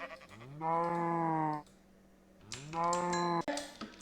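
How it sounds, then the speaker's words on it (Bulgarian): Two long, loud moos from Minecraft cows on a farm, each a drawn-out nasal bellow about a second long, separated by a short quiet gap, with no talking. "Да вземем тия крави."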